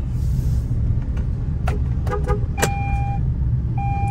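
Car driving slowly through a coach-building works compound, steady engine and road rumble close by, with a few sharp clicks and a brief tone near the end.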